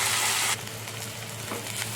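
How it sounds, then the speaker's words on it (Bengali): Spinach sizzles in hot oil with whole cumin and dried chili, a steady frying hiss that is loud at first and then settles into a softer continuous crackle while it is gently stirred. "দিয়ে হালকাভাবে নেড়ে ভেজে নেওয়া হচ্ছে।"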